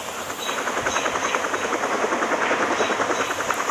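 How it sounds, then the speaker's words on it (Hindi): Helicopter landing in the Rope Hero Vice Town game: a steady, rapid rotor chop with a whining turbine hum, moderately loud and continuous with no talking. "और यहाँ पर मैं हेलीकॉप्टर लैंड कर देता हूँ।"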